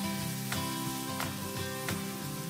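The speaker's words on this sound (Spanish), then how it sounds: "Rehogaremos esto aproximadamente unos 10 minutos hasta que cambie de color." Chopped onion and red pepper sauté in a small splash of oil, giving a soft, steady sizzle with light crackles and occasional utensil taps. The sound stays fairly quiet and even, with no speech.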